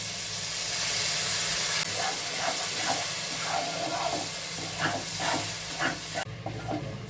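Onion, dried and green chilli spice paste frying in a pan of oil for a Bengali spicy fish curry, a steady loud hiss and sizzle throughout with scattered stirring scrapes, no voices.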